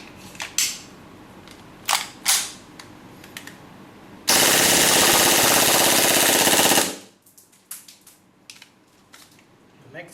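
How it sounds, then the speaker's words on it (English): KWA MP7 airsoft gun firing full auto on green gas with .2 BBs: a dense, loud burst of rapid shots lasting about two and a half seconds, framed by scattered clicks and handling noises before and after. "I would like to fire this MP7 from the KWA with the full auto mode."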